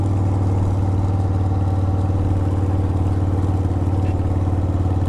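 A car engine runs steadily at 25 mph in second gear on a town street, a loud, even mid-pitched drone with a regular throbbing pulse throughout, alone without talk.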